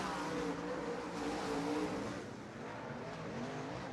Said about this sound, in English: Eric Moon tries to hike that car into turn 3